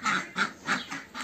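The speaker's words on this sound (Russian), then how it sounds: "Вот такой вот бунт устроили утки" Ducks quack loudly and insistently at a farm on a rainy morning, four harsh squawking calls in a quick uneven series, close and alone with no voices.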